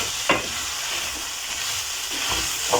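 Minced beef stew sizzling steadily in a pot while being stirred, with a couple of soft scraping strokes of the spoon rising over the continuous frying hiss.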